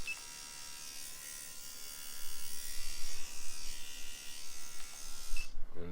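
A pen-style tattoo machine runs on a Critical universal battery pack with a steady, close electric buzz that holds for several seconds and stops abruptly near the end.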